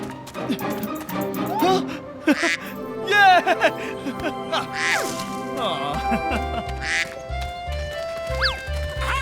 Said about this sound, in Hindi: अरे मेरी बतख है, मेरी बतख।